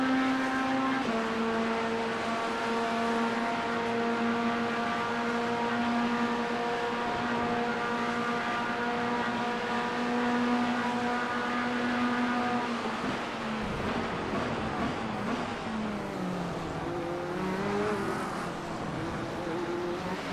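Steady, droning Corvette race car engine in a sim racing game, held at a constant high pitch for a long stretch, then dropping and shifting as the car brakes and downshifts, with brief revving afterward.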